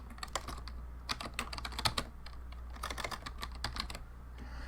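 Rapid typing on a computer keyboard, a dense run of close, crisp key clicks in irregular bursts over a low steady hum.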